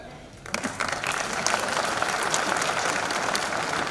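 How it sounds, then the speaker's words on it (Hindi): An audience at a large public address breaks into applause, a dense, steady wave of clapping that starts abruptly and holds loud and even to the end. "ये तालियां बजाने को क्या हो गया?"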